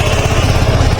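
A Suzuki Gixxer SF motorcycle fitted with a two-way alarm runs its engine, a loud, close, steady buzzing putter with no pause.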